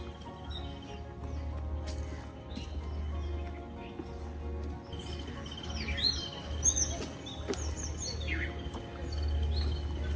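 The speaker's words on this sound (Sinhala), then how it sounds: "ගස් වලින් වට වෙලා අර කුරුල්ලෝ කෑ ගහන සද්දෙත් එක්ක හරියම ලස්සනයි." Birds call and chirp from the trees surrounding a resort pool area in Weerawila, Sri Lanka. Scattered short chirps come and go at moderate distance over a steady low outdoor hum, with insects faintly audible.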